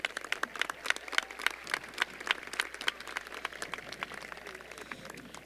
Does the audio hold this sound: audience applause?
yes